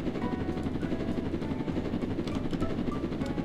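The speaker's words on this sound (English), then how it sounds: "let's get my chopper" Helicopter in the Roblox game Jailbreak, a steady close rotor drone and whine running continuously and loudly throughout without talk.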